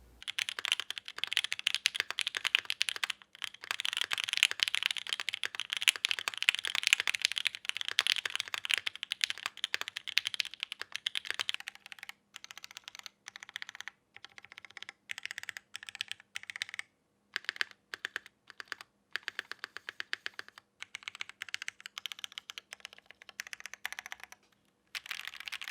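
Rapid, steady mechanical keyboard typing with smooth, muted clacks from lubed and filmed Durock Teal 62g linear switches, Durock V2 stabilizers and GMK keycaps, dense at first, then thinning into shorter bursts and single keystrokes with brief pauses.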